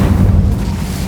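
Incendio fire spell cast in Hogwarts Legacy, a loud, close burst of flame with a heavy low rumbling boom that holds steady for about a second with no voices.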